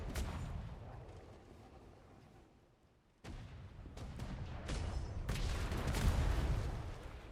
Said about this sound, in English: Mortars in range.